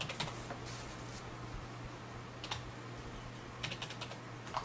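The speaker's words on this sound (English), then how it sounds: "I'm going to type in 123." Quiet, steady typing on a computer keyboard over a low electrical hum, soft clicking keystrokes in irregular clusters with brief pauses, no talk.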